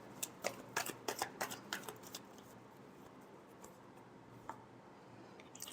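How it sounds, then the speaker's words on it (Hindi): Tarot cards being shuffled by hand, a quick run of soft flicking riffles over the first couple of seconds, then quiet room tone with an isolated tap or two, fairly close and faint. "Last shuffle."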